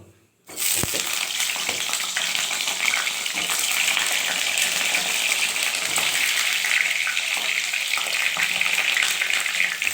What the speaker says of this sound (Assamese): তেলটো গৰম হোৱাৰ পিছত আপুনি বেঙেনাটো দি দিব।